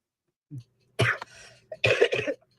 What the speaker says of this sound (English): Excuse me, I still got my cough.